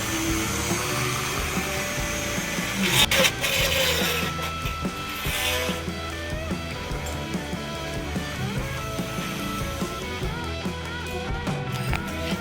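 A grinding tool trims a clutch part from a Honda Wave 125 motorcycle, a loud continuous whirring grind close by that runs without pause throughout.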